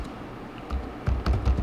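A few key taps on a computer keyboard while a document heading is entered, starting quiet and then coming as a short cluster of close, soft clicks.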